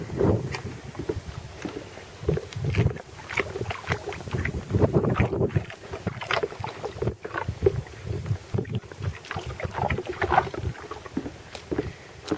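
Repeated squelching, splashing footsteps through wet slush, steady and close, with wind buffeting the microphone throughout.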